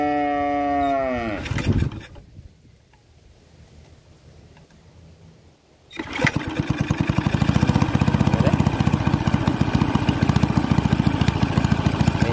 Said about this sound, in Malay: Enjin dah hidup dah.